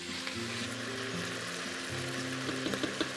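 Meat browning in an Instant Pot gives off a steady sizzle and crackle, with faint sustained tones underneath and a few sharper pops near the end.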